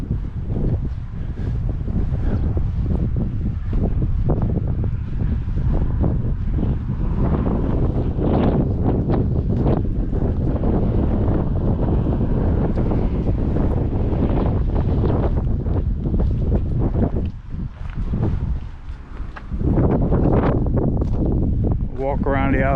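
Strong wind blowing outdoors around an 1820s barn under restoration, heavy buffeting gusts against the microphone that carry on almost the whole time, with a person talking at points.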